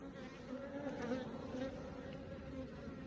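A steady, dense buzzing of many honeybees at a Langstroth hive in an apiary, continuous and fairly close, with a low droning hum throughout.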